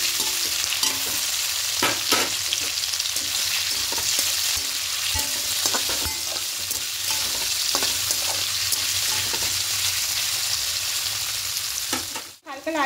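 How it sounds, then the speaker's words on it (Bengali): Paneer pieces fry in white oil in a wok, giving a steady, loud sizzle with occasional stirring clicks and scrapes throughout, then a brief dip near the end. "পনিরগুলো দিয়ে হালকা করে একটু ভেজে দেব"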